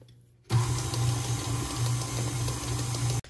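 Electric mixer whirring steadily for about three seconds while vegan coffee cake batter is mixed, starting and stopping abruptly, with a loud, even motor hum close by.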